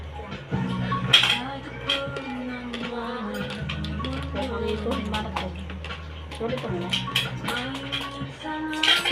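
Cutlery scraping and clinking against plates and dishes through a meal of rice and lechon kawali, close and continuous, with people talking over the clatter.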